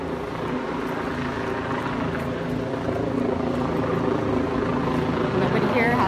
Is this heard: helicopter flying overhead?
yes